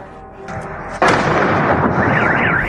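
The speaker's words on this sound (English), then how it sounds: "Explosions were heard there for several hours in a row" An explosion in Bryansk, Russia, hits with a sudden loud boom about a second in, followed by a long, rumbling roar and a siren-like wailing tone rising and falling in the background.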